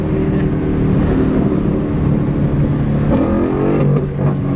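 A car engine revs loudly and steadily, rumbling deep, then its pitch climbs sharply as the throttle opens near the end.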